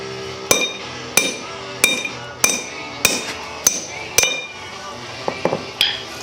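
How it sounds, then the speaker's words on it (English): Sharp metallic hammer strikes on a 7/8 socket, knocking out a Subaru flywheel pilot bearing, ring out about once a second, nine or ten blows with bright clinking overtones, a few quicker taps near the end. "knocking it out with a hammer and a roughly equivalently sized socket"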